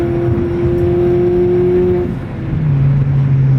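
Ford Fiesta with an upgraded engine mount accelerating hard through the gears, a steady engine drone that drops in pitch at a gear change before pulling again, close and loud.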